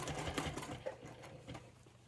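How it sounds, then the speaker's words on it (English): A sewing machine back stitching the seam of a clutch purse, running in a quick steady mechanical patter of needle strokes at moderate, fairly quiet level with no talk. "I'm going to make sure I get a good back stitch there"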